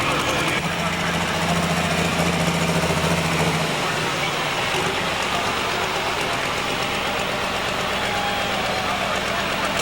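A pro stock pulling tractor roars at full power during a pull at an NTPA event in Bowling Green, Ohio, a loud, steady engine drone throughout with a deeper low rumble in the first few seconds.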